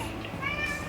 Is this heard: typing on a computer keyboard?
no